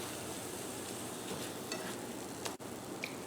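Eggs with broccoli and cauliflower scrambling in a hot pan, giving a steady close sizzle with soft stirring and scraping as they are folded over.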